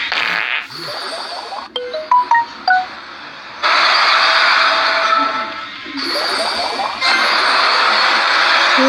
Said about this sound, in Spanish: ese sonido es claramente de la furia